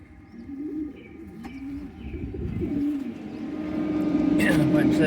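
Racing pigeons coo repeatedly in a loft after returning from an old-bird race, steady low throaty calls close by, with people talking and a rising background rumble.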